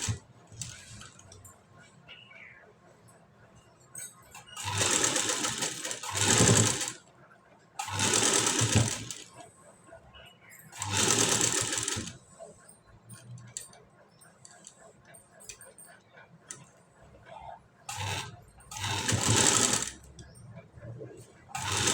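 A sewing machine stitches potli buttons onto a high-neck, back-open blouse in several loud, steady bursts, separated by pauses filled with small handling clicks.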